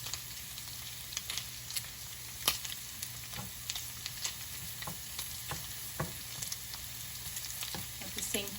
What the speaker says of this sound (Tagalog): So, iba-brown lang natin itong garlic dyan.